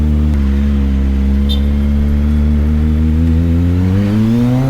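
Motorcycle engine revving loudly up close, a steady rumbling idle whose pitch climbs smoothly as the throttle opens, dominating the scene without any talk.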